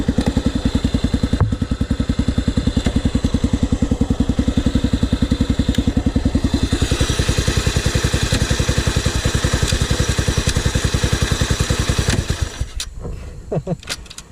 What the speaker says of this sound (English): Listen to the way that thing clicks into gear.